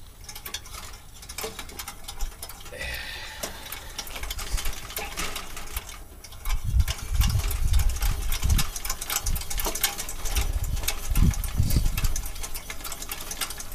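A camp stove generator burning 45-year-old Coleman fuel, a steady hissing, crackling roar with rapid ticking flutter that swells louder partway through, no talk.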